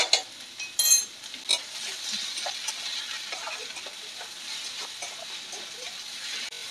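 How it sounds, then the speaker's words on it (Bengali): Carrot, potato and cauliflower sizzle as they stir-fry in a pan for vegetable Maggi. A few utensil clatters come first, then a steady, moderate frying hiss continues throughout. "ফুলকপি ওখানে আছে, এগুলো সবজিগুলো ঢেলে দিলাম।"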